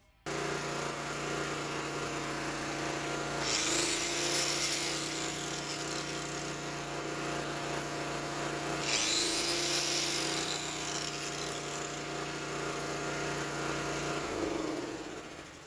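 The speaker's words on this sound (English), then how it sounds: "take your regular old grinder, plug it in, and see what it does when you fire it on" A regular angle grinder runs on power from a Honda GX engine generator, a steady high whine over the engine's drone, surging twice in level before winding down at the end.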